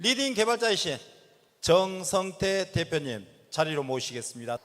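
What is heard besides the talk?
No everyday noises stand out.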